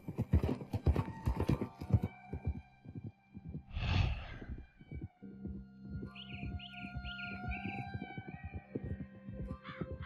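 Steady clip-clop of horse hooves in Red Dead Redemption 2, with a loud snort or whinny midway and birds calling faintly in the background of an outdoor game scene.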